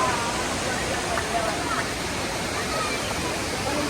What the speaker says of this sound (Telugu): ఇంకా కొడైకెనాల్ పోకముందుకే మనకి వాటర్ ఫాల్స్ అయితే ఉంది